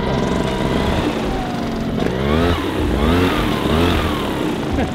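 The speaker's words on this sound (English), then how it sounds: "Too smooth. It sounds like an electric engine." A small pull-start engine runs steadily and very smoothly up close, its hum rising and falling slightly in pitch, with no voices.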